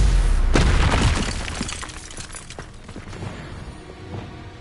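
A fiery blast from the Incendio spell in Hogwarts Legacy, a loud booming burst at the start with crackling debris that fades over a few seconds.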